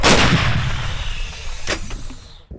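A heavy, booming artillery blast with a long rumbling tail that slowly fades, followed by a faint sharper crack near the end, on a front line near Bakhmut.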